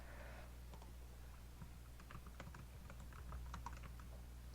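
Someone types on a computer keyboard while working in Excel VBA, producing a quiet, close run of irregular key clicks over a steady low background hum, without talking.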